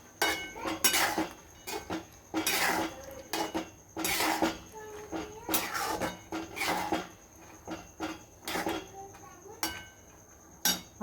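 A spoon scrapes and knocks against a cooking pan while dry ridge gourd vegetable dish is stirred and mixed, giving repeated irregular clinks and taps close up at a steady working rhythm.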